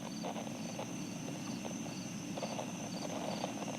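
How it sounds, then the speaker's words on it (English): Numerous crickets chirp continuously in a quiet night setting, a faint, steady chorus of rapid pulsing trills with no talk. "Yes, the crickets are numerous."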